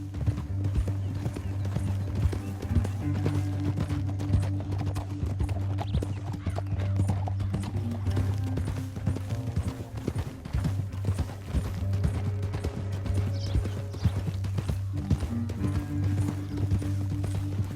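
Horse hooves clip-clop steadily and close throughout in Red Dead Redemption 2, over a continuous low musical drone with a brief whinny, no talk.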